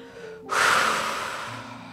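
A single sharp intake of breath followed by a long, steady, audible exhale during a barre Pilates and ballet workout, close and fairly loud, with no words spoken.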